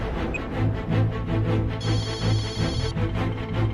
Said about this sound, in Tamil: யார்மா? சக்தி தான் ஃபோன் பண்றா